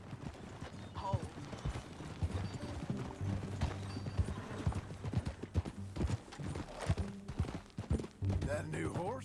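Horse hooves clip-clop in an uneven walking rhythm in the video game Red Dead Redemption 2, close and fairly loud, with occasional thuds and a soft snort.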